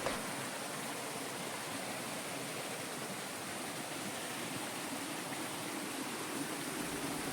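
Paloor Kotta waterfall in Malappuram, Kerala, in the monsoon season, heard as a faint, even, continuous rush of falling water from some distance, with no voices.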